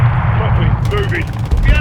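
Modern Warfare 2 campaign gunfire crackles in a brief dense burst under continuous battlefield rumble, with a voice speaking over the shooting.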